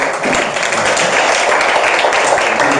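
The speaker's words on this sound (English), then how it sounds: "Why don't we just give a big round of applause for President Beck Taylor." Loud, dense applause from a university audience honoring the president at a study-abroad information session, steady sustained clapping filling the room with no break.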